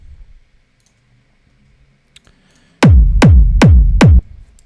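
A hard techno kick drum sample in CARV style: four punchy, booming kicks evenly spaced and loud, each with a fast decaying tail, played alone after a near-silent start.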